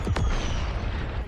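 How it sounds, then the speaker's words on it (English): A close, heavy explosion boom in the Mortal Kombat 1 game, a sharp blast followed by a long rumbling decay that fades over about a second, with no voices. "A nearby explosion rocks the room"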